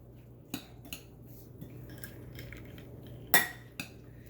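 A spoon stirring pineapple salsa seasoned with fresh cracked pepper in a bowl, a few scattered clinks and scrapes against the dish over a quiet kitchen background, with one sharper knock near the end.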